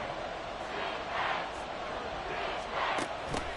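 A stadium crowd at a football game roars in a steady, dense wash of noise, swelling with a few sharper bursts of cheering, loud and continuous without clear speech.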